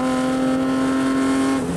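A Mercedes touring race car at Snetterton during the 1985 Willhire 24-hour race roars past close by, a loud sustained high engine note that dips slightly as it goes by.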